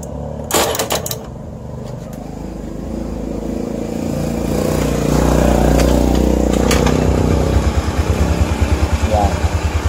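Carbureted Honda Beat scooter engine with an unusual mechanical noise, idling and revving near the microphone, starting with sharp clicks and rising into a steady, rapidly pulsing putter toward the end, while someone talks over it.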